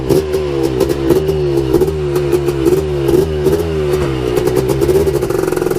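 A Honda TRX250 ATV fitted with a big-bore 330 engine runs loud and close, with a throaty, pulsing exhaust note that rises and falls under repeated throttle blips, and a mechanical clatter running throughout.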